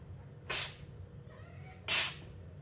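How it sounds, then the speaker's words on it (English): A cat hisses twice, two sharp airy bursts about a second apart, close and fairly loud over a quiet indoor background. "Fucking cat."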